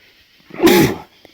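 One sharp, close sneeze bursting out of near silence at Pioneer Cemetery in Tuscarora State Forest, with no talking before or after.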